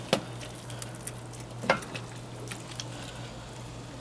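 Seafood paella with salmon being stirred in a pan on a Big Green Egg, a faint steady sizzle with a few scattered scrapes and clinks of the spoon, no talking.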